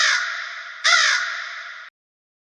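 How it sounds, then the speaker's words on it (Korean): A crow caws loudly at night, two harsh, close calls running into each other, the second starting sharper, then abruptly stopping into silence. "갑작스러운 까마귀 울음소리에 깜짝 놀랐어요."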